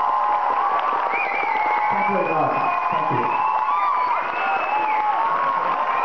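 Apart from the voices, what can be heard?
audience applause and cheering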